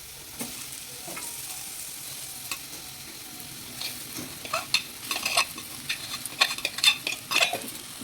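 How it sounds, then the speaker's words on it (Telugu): Rice being stirred in a pan with salt and seasoning for a lemon rice lunch box, with soft sizzling under repeated scraping and clattering spoon strokes that grow busier toward the end. "ఇదంతా బాగా కలుపుకోవాలి."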